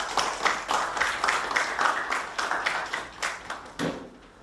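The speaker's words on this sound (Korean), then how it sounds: "큰 박수 부탁드리겠습니다." An audience at an academic forum on Gaya history and Gimhae Gaya dance applauds to welcome a dance company director, giving a moderate, fairly quiet patter of claps that grows uneven and thins toward the end.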